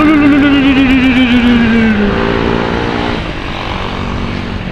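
Busy traffic of tourist buses and cars on the Jogja–Wonosari road in Gunungkidul, Indonesia: a loud passing engine drone with a falling pitch as a vehicle goes by close, then fading into steady road rumble.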